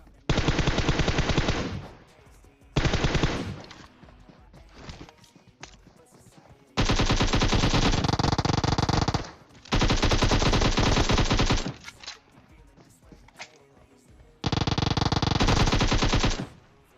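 Gunfire in the mobile battle-royale game PUBG Mobile: several long, loud bursts of automatic rifle fire, each lasting one to three seconds, with quieter scattered shots and game noise in the gaps between them.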